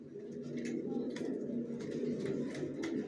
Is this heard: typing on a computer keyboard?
no